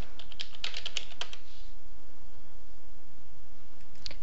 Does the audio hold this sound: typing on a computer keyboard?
yes